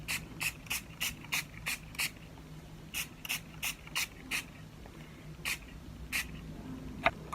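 Too Faced Hangover setting spray is misted onto a face in a rapid series of short, close, crisp spritzes, about a dozen bursts in quick runs separated by brief pauses, with no voice.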